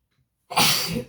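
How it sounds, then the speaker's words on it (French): A single loud sneeze bursts out after a moment of near silence, close and sharp with a breathy tail. "J'ai envie d'éternuer, les filles."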